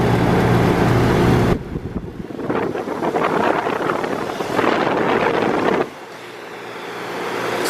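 Ruud UPND packaged heat pump, a 4 or 5-ton rooftop-style unit, running outdoors with a steady fan whoosh and low tonal hum, interrupted by a stretch of buffeting wind before the hum returns.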